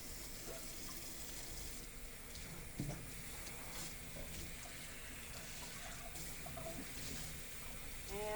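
Water runs from a sink faucet as a rag is rinsed during a grinder clean-up, a steady close stream with small splashes and shifts as the cloth moves under the flow.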